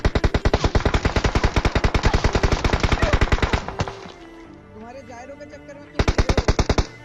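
PUBG Mobile gunfire: rapid, evenly spaced automatic shots ring out loud and close in a long burst, then a quieter stretch with distant shots, and a final short burst.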